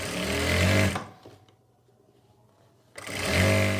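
Sewing machine stitching all around a folded trouser hem on a wrap palazzo pant, two loud runs of steady whirring with a quiet pause between them.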